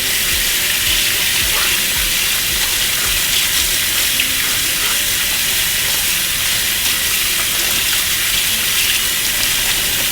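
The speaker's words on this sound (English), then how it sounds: "And completely rinsing off all the soap." Tap water rinsing soap off hands at a kitchen sink, a loud, close, steady hissing gush running without break, no voices.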